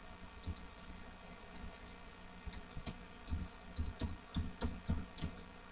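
Computer keyboard keys tapped out in a quick, uneven run of crisp clicks, faint at first and growing busier and louder toward the end, with no talking.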